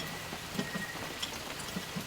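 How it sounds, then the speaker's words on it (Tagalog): Steady rain falls without pause, a soft continuous hiss with a few scattered drip taps, moderately quiet and alone with no voices. "hindi naman nakakailangan ulan, walang humpay."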